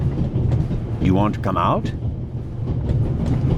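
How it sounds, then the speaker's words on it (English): A train rolls along in The Raven Remastered, a video game, with a steady low rumble running throughout while a person speaks over it in the middle. "First, I'll stop the train"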